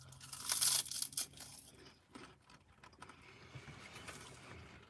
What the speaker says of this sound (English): Sorry if I sound like I'm crunching and munching too much.